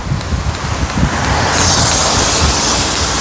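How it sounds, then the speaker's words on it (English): A rain shower in Singapore sets in, growing from a low outdoor rumble into a loud, steady, close hiss of falling rain with no talking. "now you can experience a Singapore rain shower"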